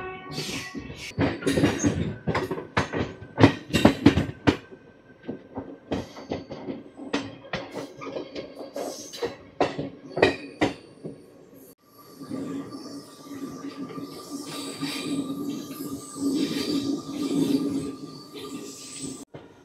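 The Tirupati–Puri Express, train 17480, pulls out of Berhampur station after a short halt, with sharp clanks and knocks from the wagons giving way to a steady rolling rumble and hum. Voices are heard over the first part.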